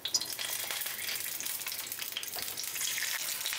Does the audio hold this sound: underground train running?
no